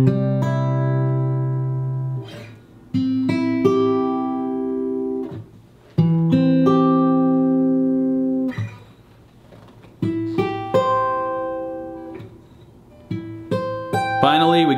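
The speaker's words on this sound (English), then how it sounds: "Check out what a spread voice triad sounds like versus a closed voice or traditional triad shape." Guitar triads played one shape at a time, comparing spread voicings with closed, traditional shapes. Each ringing chord lasts a second or two before the next is struck, clear and moderately loud, with no talking.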